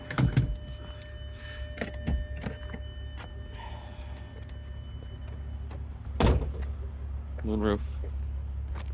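The moonroof motor of a 2004 VW R32 whirs briefly inside the cabin, a faint mechanical hum among thuds and a low engine idle, with someone talking throughout.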